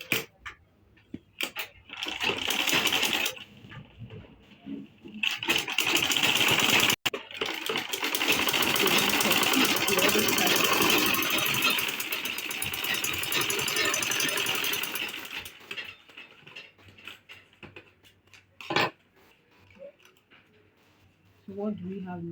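A sewing machine top stitches a card wallet in loud rapid bursts, several short runs and then a long stretch of stitching, separated by pauses, with a person speaking between runs.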